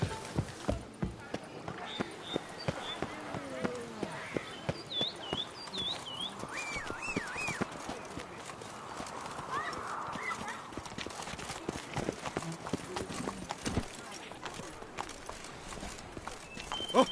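Horse hooves clip-clop at a steady trot in The Witcher 3 video game, a rhythmic string of close, sharp knocks running throughout with faint game ambience and a brief whinny-like tone in the middle.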